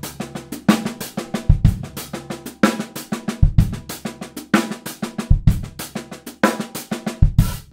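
Halftime shuffle drum groove on a kit, with a left-foot bass drum stroke falling just before each backbeat snare. The pattern repeats steadily and loudly with crisp cymbal ticks, and no one talks over it.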